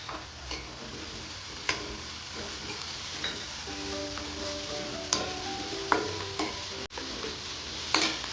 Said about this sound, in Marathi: मी आता कांदा चांगला परतून घेते